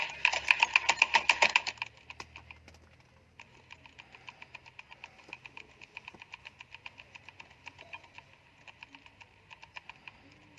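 Fast typing on a computer keyboard, with a loud flurry of keystrokes at first and then lighter, steady clicking close by, and no voices.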